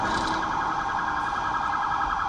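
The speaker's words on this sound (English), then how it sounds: "We've got sirens in the background there" A siren wails steadily on a New York City street, loud and continuous with a wavering electronic tone, carrying on without pause and with no talk over it.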